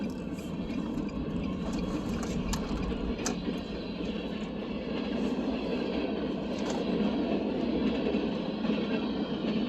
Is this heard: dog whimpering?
no